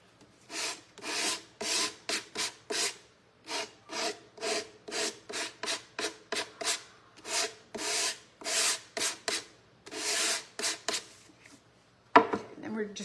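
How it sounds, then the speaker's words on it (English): Sandpaper is rubbed lightly over a wooden bird house to distress it, in a steady series of short scraping strokes, close and clear, with a brief knock at the end. "Again, just lightly sanding it."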